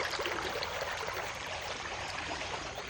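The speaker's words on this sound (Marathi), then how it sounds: "आता सध्या इथूनच पाणी जात आहे" Water flowing through a channel after monsoon rain, a continuous close gurgling and splashing rush with bright bubbling detail, steady and alone.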